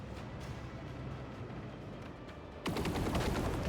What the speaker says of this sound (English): these interceptors are just gonna go ahead and fly right here and shoot you in the face